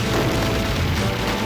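Bomb sub-weapon detonations in Strikers 1945 Plus on Neo Geo, a dense, continuous rumbling boom of explosions layered with game noise, loud and unbroken for the whole moment.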